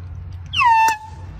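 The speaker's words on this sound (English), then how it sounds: "Is that you with the horn?" A single loud air horn blast on a golf course, roughly half a second long, rising then holding a steady tone over low background rumble.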